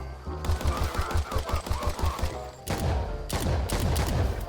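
Gunfire in the video game La Quimera: a rapid series of sharp, evenly spaced shots, a short pause, then more dense bursts of weapon fire, loud and with no speech.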